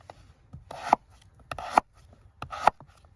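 A Haidamak knife from Prosta Stal slicing thin pieces makes three crisp, evenly spaced cutting strokes, each ending in a sharp tap, close and clear with no talk.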